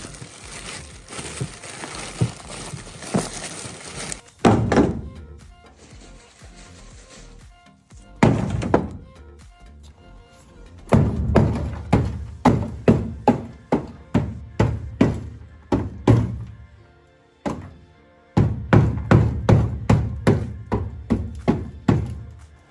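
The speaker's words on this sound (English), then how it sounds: "That cracking is a sound deadener unbonding." Sound deadener cracking and popping as dry ice unbonds it from a car's metal panel: a run of sharp, close thunks and cracks, sometimes single and sometimes in rapid clusters, separated by short quiet gaps, with no talking.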